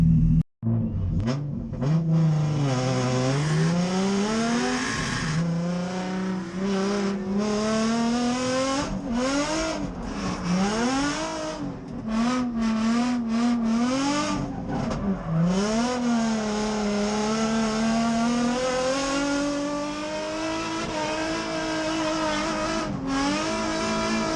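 A nitrous-equipped drift car competes in a drift battle, its engine revving hard and wailing up and down, with tires squealing almost continuously, loud and close, with no talk.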